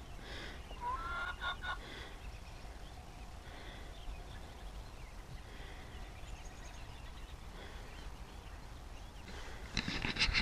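Backyard chickens in a pen cluck and squawk warily around a newly placed water bowl, with a few clear close calls early and a louder burst at the end over a quiet outdoor background.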